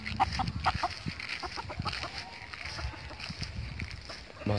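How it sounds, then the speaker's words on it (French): Hen clucking beside a Brahma rooster in a backyard breeding flock, with a string of short clucks and chicken calls near and fairly loud over faint farmyard noise. "C'est pas ta poule, c'est la poule au coq Brahma."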